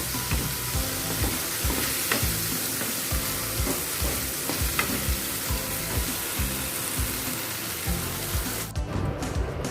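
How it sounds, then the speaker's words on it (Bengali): Prawns being stir-fried with spice paste in a pan, a steady sizzle and scraping stir running throughout, close and continuous with no talk. "এবার চিংড়ি মাছের সঙ্গে ভালোভাবে মশলার সঙ্গে মিশিয়ে একটু কষে নেব।"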